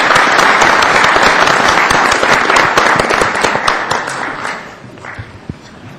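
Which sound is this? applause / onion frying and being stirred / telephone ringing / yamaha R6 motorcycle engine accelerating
applause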